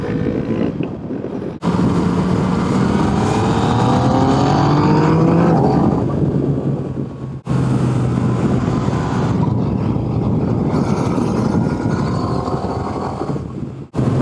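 Cars and campers pass close by a motorcycle riding a winding road in Sardinia, heard as loud, sustained engine roars and whooshing wind that surge, cut off abruptly and return.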